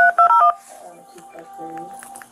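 Several touch-tone keypad beeps enter a client ID on a phone line to an interpreter service, a quick run of loud paired tones at the start, followed by a quieter automated voice prompt.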